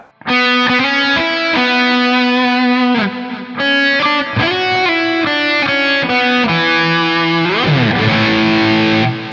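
A distorted electric guitar plays a sustained melodic solo line with a lower harmony an octave down, loud and continuous, ending in a bending, wavering passage.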